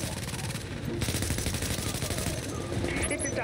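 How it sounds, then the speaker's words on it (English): An automated turret in The Division rattles off rapid, continuous bursts of gunfire, loud and sustained with metallic chatter and a few brighter ringing tones near the end. "Come on, turret, do your job."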